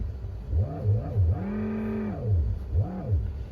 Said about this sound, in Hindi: And then now I am just accelerating. You can hear the sound.